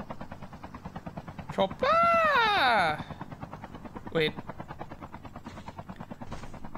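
Helicopter in the mobile battle royale COD Mobile, a steady rapid rotor chop running throughout, with someone talking over it and a sharp rising-falling electronic tone in the middle.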